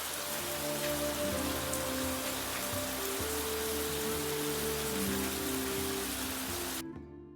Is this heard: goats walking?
no